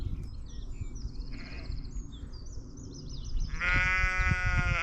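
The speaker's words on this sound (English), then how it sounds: "there's a sheep to the right, which is being very noisy, who's covered in blue paint" A ewe daubed with blue marking paint bleats loudly near the end, a long wavering call, after quieter earlier bleats from the flock over steady low rumbling background noise.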